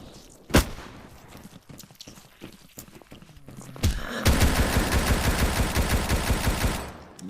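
Sustained rapid video game gunfire as a full magazine is emptied, loud and continuous for about three seconds after a few scattered sharp shots and light shuffling.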